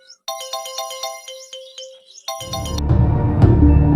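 An incoming-call phone ringtone plays a bright repeating melodic pattern, loud and close, then stops as low background noise rises.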